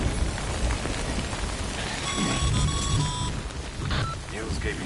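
Steady rain pours down in the video game Death Stranding, a dense even hiss of drops on surfaces under quiet music tones, close and constant throughout.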